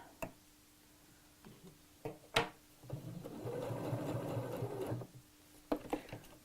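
Sewing machine stitching a zip into a letterbox-style opening, running in one short burst of about two seconds amid quiet clicks and handling sounds, fairly faint and close.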